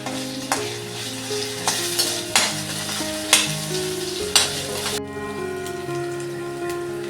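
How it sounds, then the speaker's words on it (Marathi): Tomatoes sauté in hot oil for a Konkan Bhogi bhaji. A steady, gentle sizzle is punctuated by a spatula scraping through the pan roughly once a second, with no talking. "आता मी याच्यामध्ये टॅमॅटो टाकते टोमॅटो पण चांगला पटकून घेणार आहे मी"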